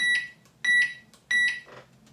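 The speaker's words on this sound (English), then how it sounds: "we start off with a microwave beep, and that's this sound" A microwave oven beeps three times in an even rhythm, each tone short, clear and close, with brief quiet gaps between them.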